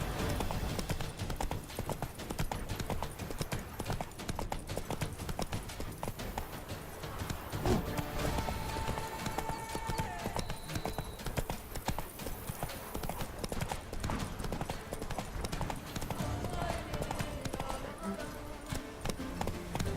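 Roach, a horse in The Witcher 3, gallops in a steady, loud clip-clop rhythm throughout, layered over busy game music and ambience.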